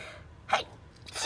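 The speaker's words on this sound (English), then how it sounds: "I got to sneeze." A person sneezes during a live card-making class: a sharp intake, then one burst of sneeze about halfway through, followed by a second breathy burst at the end, close and fairly loud against quiet room tone.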